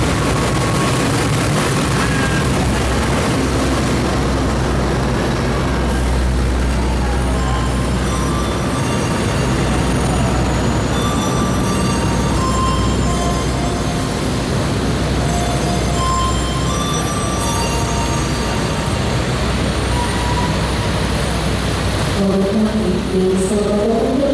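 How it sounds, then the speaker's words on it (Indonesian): A Sancaka passenger train from Yogyakarta to Surabaya Gubeng arrives at platform 1, its engine drone and rumbling wheels loud and steady throughout, with a rising whistle-like tone near the end. "Sancaka Train sudah masuk di jalur 1"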